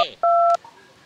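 Short telephone keypad dialing tones sound clearly, two crisp electronic beeps in quick succession, loud and close, with faint background after.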